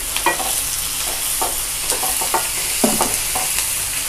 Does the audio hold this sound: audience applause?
no